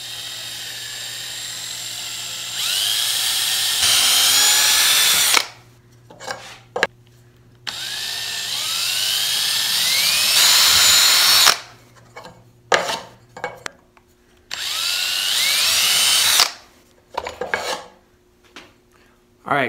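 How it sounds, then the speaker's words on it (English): A power drill whines loudly up close in three long bursts of a few seconds each, separated by short quiet pauses with faint clicks. "I'm gonna drill through these first"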